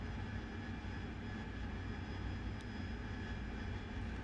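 Steady, loud jet engine roar from an AV-8B Harrier in the DCS flight simulator game, holding a constant broadband drone with no pauses and no talking.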